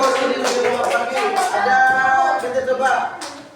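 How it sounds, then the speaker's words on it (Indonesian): Classroom audience applauding after a presentation, a short burst of mixed hand clapping, near and fairly loud, tapering off toward the end with a voice briefly audible. "Terima kasih, tepuk tangan."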